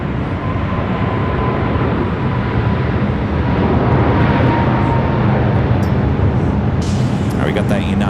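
At LAX, a jet rolls down runway 7 Left on the south side for takeoff, heard as a loud, continuous broadband engine roar that holds steady throughout. Faint higher clicks creep in near the end.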